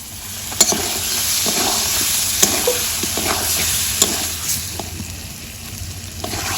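Stingray fish pieces frying in a pan with salt and turmeric, a continuous bright sizzle with a few sharp clinks of a utensil, close and fairly loud, no voices.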